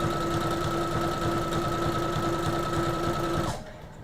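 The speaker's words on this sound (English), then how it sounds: "I'm sewing a dress" An electric sewing machine stitching fabric for a dress runs with a steady, close whirring drone and a fixed tone, then stops abruptly near the end, leaving a low background hush.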